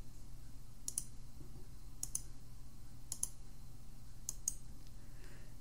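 Mouse clicks while drawing shapes in Inkscape on a computer, paired double clicks repeated roughly once a second, crisp and close over a low steady hum, no speech.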